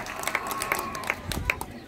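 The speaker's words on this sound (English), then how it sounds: "Let's have a big round of applause for our helpful volunteers." Audience applause for volunteers at an animal and bird presentation at a Toronto safari attraction: a dense, steady patter of many hands clapping with sharp individual claps, continuing under a speaking voice.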